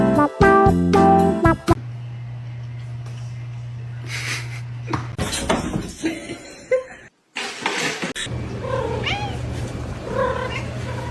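Cats fight at home, trading drawn-out caterwauls, yowls and meows, with a sustained low growl and sudden scuffling bursts, close and loud, and a person speaks briefly.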